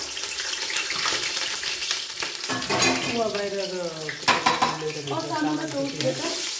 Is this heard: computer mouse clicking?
no